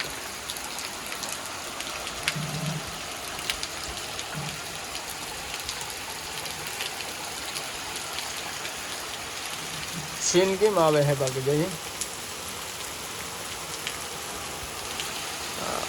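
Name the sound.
heavy rain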